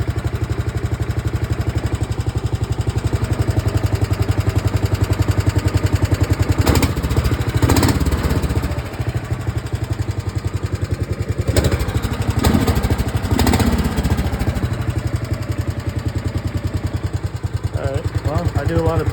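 Predator 420cc engine in an EZGO golf cart, pull-started and running with a steady, loud chugging idle throughout, with a few louder clattering bursts and people talking over it.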